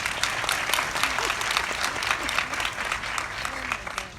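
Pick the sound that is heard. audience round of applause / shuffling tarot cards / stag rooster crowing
audience round of applause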